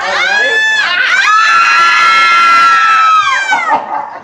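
Scream queens at a Days of the Dead convention let out a long, loud, high-pitched scream lasting several seconds, with piercing sustained tones and a shaky trailing end.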